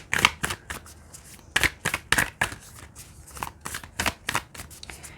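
A deck of oracle cards is shuffled by hand at close range, producing a quick series of sharp riffling slaps and flutters in an uneven rhythm, with no talking.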